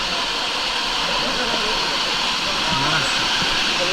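Steady broadband rush of a waterfall plunging into a pool at a swimming spot, loud and constant throughout, with a faint voice briefly audible beneath the water noise.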